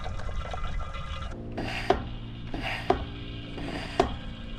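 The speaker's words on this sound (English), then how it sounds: "About 4 or 5 pumps there, and we've got some more oil coming out for sure." A hand-operated oil extractor draws engine oil out of a Sea-Doo watercraft, with three evenly spaced pump strokes, each ending in a sharp click, over a quiet background of soft gurgling and rubbing.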